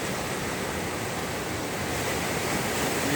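Sea waves breaking on a shore on a mild Saturday, a steady, full roar of surf and wash without pause, close and loud, with wind adding a broad hiss.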